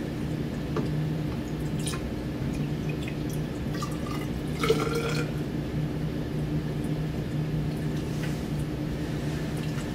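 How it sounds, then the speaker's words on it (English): Methanol pours into a graduated cylinder to measure 50 milliliters: a quiet, steady liquid trickle over a low background hum, with a few small drips and one brief clink near the middle. "measure out 50 milliliters of methanol. Use my graduated cylinder to do this."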